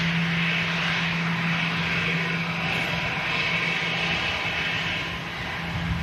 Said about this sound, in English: Yeah, there's that Austrian A320.